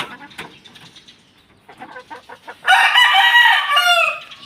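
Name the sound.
white kelso gamefowl rooster crowing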